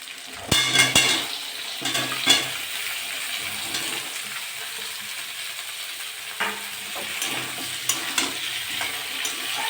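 Vegetables sizzle in hot oil in a pan, with a steady frying hiss broken by scraping stirs and occasional clacks of the spatula against the pan. It is close up and mostly free of talk.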